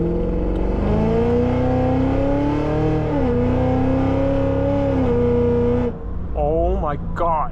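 A 2025 Hennessey H1000 Escalade-V with 1,000 horsepower accelerates hard, its engine note climbing loud and close through the gears with a shift dip, then cutting off before a short burst of talk.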